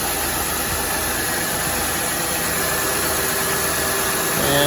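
A Honda Pilot engine idles steadily just after its power steering pump was replaced, a constant mid-pitched hum with a faint whine, heard close and alone with no talk.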